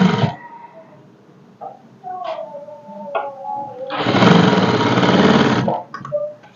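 A sewing machine stitching a high-neck blouse runs in a short burst early, then again in a longer, loud continuous whir near the end, with quieter handling noises and faint tones in between.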